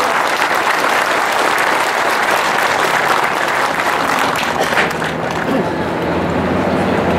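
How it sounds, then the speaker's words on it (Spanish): Loud, dense applause fills a hall at a labor-rights forum in Mexico, a continuous roar of many clapping hands with crowd noise mixed in, sustained and even throughout. "Un aplauso al compañero Arturo Alcalde."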